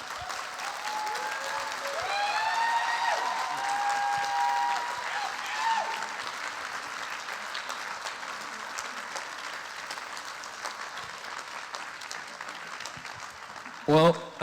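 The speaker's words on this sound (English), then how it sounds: "So please give them a round of applause." An audience at a festival talk claps in a steady, moderately loud round of applause with a few whoops early on, then fades toward the end as a voice cuts in briefly.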